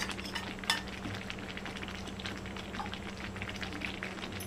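Ghee is stirred into moong dal halwa made with melted jaggery, and the pan gives a soft, steady sizzle and bubbling with light scraping from the stirring, with a sharper clink early on.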